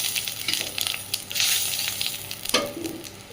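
Fish fries in hot mustard oil with panch phoron spices, giving a steady, bright sizzle with soft crackles and a brief stirring scrape, without any talking.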